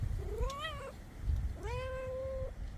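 A house cat gives two long, drawn-out meows with rising and falling pitch, close by and clear, over low rumbling wind noise.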